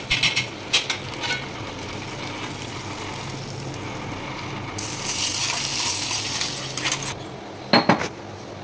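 A spoon stirs ghee-fried cashews and almonds into a pot of payasam, with repeated metallic scrapes and clinks against the pan over a soft background hiss, growing busier midway and ending in a few sharper knocks.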